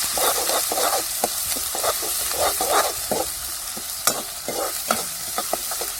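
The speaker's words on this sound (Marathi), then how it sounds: "तो बी आपल्याला चांगला परतून घ्यायचा" Ground masala paste sizzles in a hot pan for tempering, with repeated close scrapes and clicks of a spoon stirring through a steady frying hiss.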